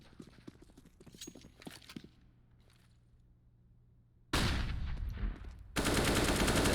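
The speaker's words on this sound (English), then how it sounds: "Nice flashbang." A flashbang grenade goes off in a CS:GO pro match on Mirage. Light footsteps and scattered gunfire come first, then a sudden loud blast bursts into a sustained bright hiss and ringing that surges again moments later. No speech.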